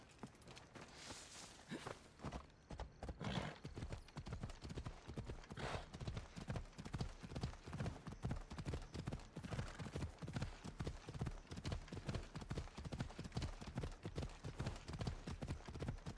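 A horse in the video game Assassin's Creed Odyssey trots along with a steady, rapid clip-clop of hooves, continuous and close, fairly quiet overall with no talking over it.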